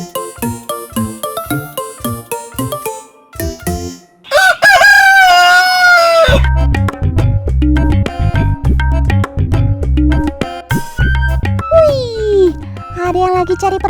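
An ayam cemani walik rooster gives a single drawn-out crow in the middle of a busy mix of music and talking voices.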